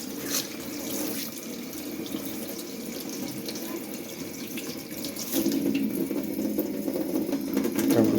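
Warm water runs from a tap into a sink while lasagna pasta sheets soak, making a steady close splashing stream that grows louder and fuller partway through.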